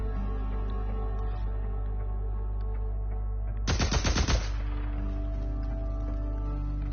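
A quick burst of automatic gunfire rattles out in the video game Days Gone, about half a second of rapid shots over a steady low game hum.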